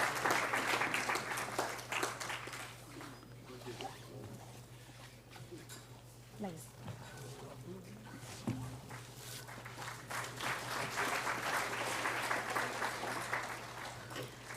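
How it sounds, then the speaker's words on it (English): An audience applauds a speaker, Dr. Sanjeev Gupta, at a memorial oration. The clapping is faint and distant, strongest at the start and again near the end, with a quieter middle stretch holding shuffling and a murmur of voices. "Please give a huge round of applause to Dr. Sanjeev Gupta."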